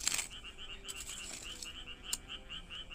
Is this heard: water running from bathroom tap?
no